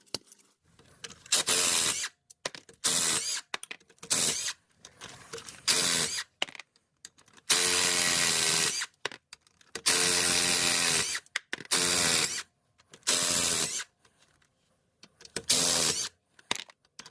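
A ratchet with a 10 mm socket loosens oil pan bolts on a Honda, heard as a series of loud, close bursts of fast clicking, each a second or two long, separated by short silences.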